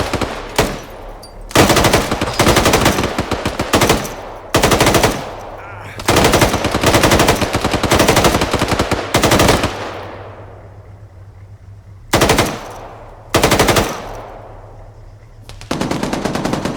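Automatic rifle and machine gun fire in ArmA 3 squad convoy and urban combat drills: loud, close bursts of rapid shots, separated by short pauses, with a long rolling echo after the middle salvo.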